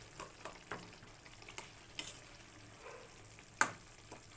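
Lote fish frying in a pan with whole garlic cloves, a quiet, steady sizzle with scattered scrapes and taps of stirring, one sharper clack near the end.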